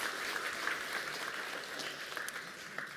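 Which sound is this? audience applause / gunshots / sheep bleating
audience applause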